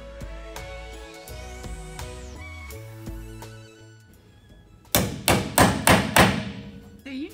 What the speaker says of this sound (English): A hammer. Hammer time!